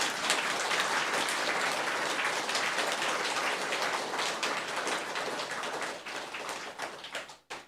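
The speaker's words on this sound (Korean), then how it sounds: "하여튼 정말 수고해 주신 우리 공수길 목사님께 큰 박수 부탁드리겠습니다." Church audience applauding a pastor after a lecture in a Catholic parish, dense sustained clapping like heavy rain that thins and stops near the end.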